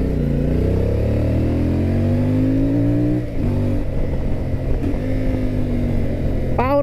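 A CFMOTO 450 MT adventure motorcycle revs on a test ride, its engine rising in pitch, dipping briefly, then climbing again, loud and close throughout with no talking.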